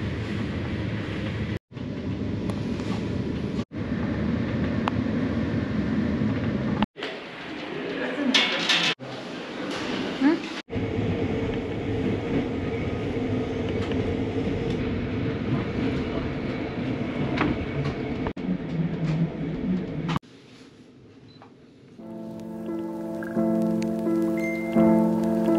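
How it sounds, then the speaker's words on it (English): Passenger train ride toward St. Moritz in the Swiss Alps, a steady close rumble of rolling carriages that runs for most of the stretch with brief cutouts, softening near the end as a tonal electronic chime or music takes over. "Train ride"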